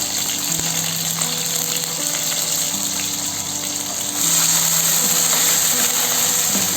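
Green chillies and curry leaves fry in hot oil, giving a steady, loud sizzle that hisses without a break over a low background hum and swells slightly toward the end.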